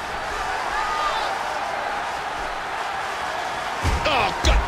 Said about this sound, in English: Would you listen to this crowd show their appreciation for these amazing competitors?